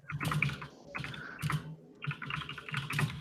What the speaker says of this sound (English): That keyboard sounds mechanical.